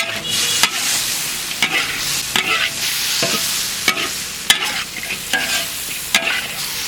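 Loaches stir-fried in a wok with garlic and ginger, repeated sharp scraping strokes of a spatula roughly every half second over a steady loud oil sizzle, close and alone without talk.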